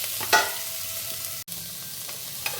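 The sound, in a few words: potatoes frying with spices in pan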